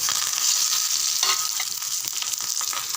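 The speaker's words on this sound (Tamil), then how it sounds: "பெருங்காயத்தூள், நல்லா பொரிய ஆரம்பிச்சிடுது" Loud, steady sizzling and crackling of curry leaves, vadagam and asafoetida frying in hot oil, a continuous bright hiss without any voices.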